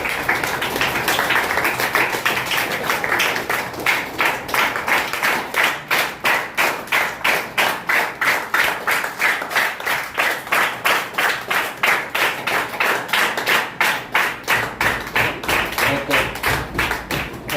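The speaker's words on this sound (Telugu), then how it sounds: "చక్కటి ధ్యానానికి ఒకసారి చక్కగా క్లాప్స్ కొడదాం గట్టిగా క్లాప్స్ కొట్టాలి" A group claps loudly and in unison after a meditation session, sharp hand claps in a brisk, even rhythm that continues for many seconds, close and forceful, with almost no voices over it.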